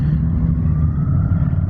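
A Kawasaki Vulcan 900 Custom motorcycle engine under way gives a steady, close, deep low rumble with a faint rising whine, continuous and alone for under two seconds.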